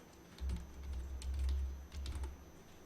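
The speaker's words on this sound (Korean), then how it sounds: "두 번째 줄에 커서 있을 때 그냥 백스페이스만 쭉 눌러서 다 지우시고" A computer keyboard key, the backspace, is pressed repeatedly in quick succession while deleting text in a spreadsheet cell; soft, faint clicks tap close by over a low background hum, with no talking.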